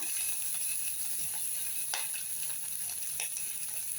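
Mustard seeds, onion and green chili sizzle and crackle steadily in hot oil, with scattered pops and faint stirring rattles, close and continuous with no talking.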